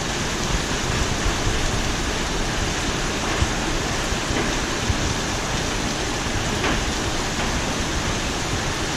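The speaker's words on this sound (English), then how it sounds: "I don't know how much rain we're getting, but it is just dumping." Heavy rain pours down in a hailstorm, a loud dense roar of water that stays even and unbroken throughout with no voices.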